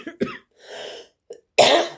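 Several short, sharp coughs in quick succession with brief pauses between them, ending in a louder, harsher cough; close and alone.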